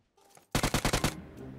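A UMP submachine gun in PUBG Mobile fires a rapid burst of about six loud, close shots in even succession, trailing off into a short echoing tail.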